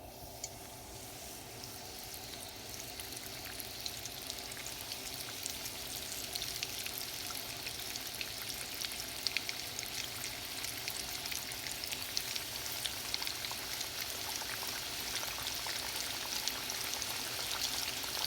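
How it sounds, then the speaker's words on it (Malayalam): Flour-coated chicken tenders deep-fry in hot oil with a steady, even crackling sizzle that holds at moderate volume throughout, with a few sharper pops mixed in. "ഇതിലോട്ട് നമ്മൾ നമ്മുടെ ചിക്കൻ ഇട്ട് വറുത്തെടുക്കുകയാണ്."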